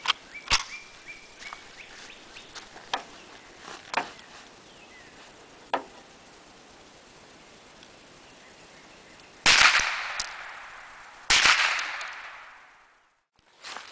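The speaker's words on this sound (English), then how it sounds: "I'm going to fire 10 rounds and see if we have a misfire and check the accuracy." .22 Long Rifle rounds from a Federal Value Pack fired outdoors, two loud sharp cracks with ringing echoes late on, preceded by lighter clicks and handling noises, with no speech.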